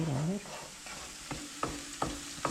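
A spoon scrapes and stirs through frying ingredients in a pan for locro, with a steady sizzle underneath and several sharp utensil knocks against the pan toward the end.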